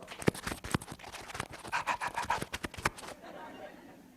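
A voice imitates a dog panting, with quick rhythmic breathy huffs and clicks repeating for about three seconds before fading into quiet room tone.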